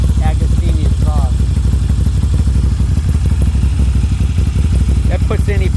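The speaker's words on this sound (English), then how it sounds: "You got the whine of the fucking transmission and the motor, and then you got the fucking rumble of the Agostini exhaust." A Moto Guzzi V9 or V7 motorcycle engine with an Agostini exhaust rumbles loud and close in a steady, continuous drone, with someone talking over it throughout.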